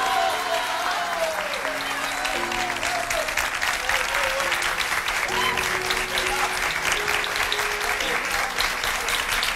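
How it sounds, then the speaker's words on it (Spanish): A studio audience applauds a guest on a live Saturday television show, a steady, dense clapping that holds throughout, with faint voices and sustained musical tones beneath it. "a quien pido un fuerte aplauso para él"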